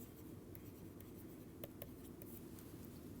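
Chalk or marker scratches across a board during a lecture, faint and close, with a few short distinct strokes standing out over a low steady room hum.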